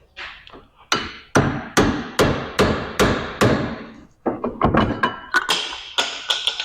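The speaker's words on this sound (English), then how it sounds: "That's how you take a rusty old caliper off. Need a couple hand tools and a hammer." Hammer blows knocking a rusty brake caliper off a junk Camaro: about a dozen loud, close metallic strikes, first in a slow steady series, then a quicker cluster of hits after a short pause.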